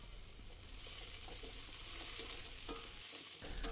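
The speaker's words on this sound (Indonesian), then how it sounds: "Tinggal kita aduk-aduk" Fried tempeh being stirred in simmering liquid in a pan, a steady close sizzle and bubbling with soft scraping stirs, no talk.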